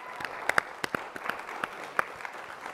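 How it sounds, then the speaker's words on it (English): Audience applause at the Principia Film Festival 2021 for the judges: a soft, fairly distant patter of clapping with a few sharper individual claps standing out, no voices. "can we go ahead and also get a round of applause for the judges tonight for taking their time?"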